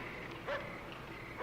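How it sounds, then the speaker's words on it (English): A dog barks at someone near a farm, two short bursts a second apart, heard from a middle distance over a steady low outdoor background. "It's a dog barking at someone."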